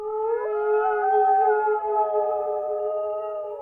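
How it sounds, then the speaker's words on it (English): A long, wolf-like howl rising and sustained in a clear, mournful tone, slightly bending in pitch before tapering off, loud and alone against silence. "Suddenly, they heard a terrifying sound, a howl in the darkness down the hill."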